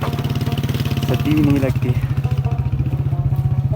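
A motorcycle ridden through snowy cold in the Saltoro Siachen area, its engine a steady, pulsing thump up close, with someone speaking briefly over it.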